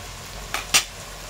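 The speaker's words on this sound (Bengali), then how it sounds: "ভালো করে একটু ব্রাউন ব্রাউন করে ভাজা হোক পেঁয়াজটা।" Onions frying in a pan for chicken kosa give a low sizzle, broken by two quick scraping strokes of a spoon stirring them, close up, with no talking.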